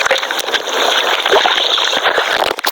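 A mobile phone records while dropped in water, picking up loud, close, muffled sloshing, gurgling and splashing with irregular dull thumps.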